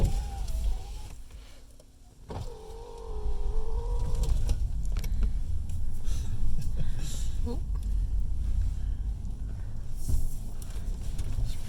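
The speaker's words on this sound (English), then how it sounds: "Let's go for a little drive." A mobility vehicle drives along with a steady low motor rumble and road noise throughout, with a brief whine near the start and some creaks over the drive.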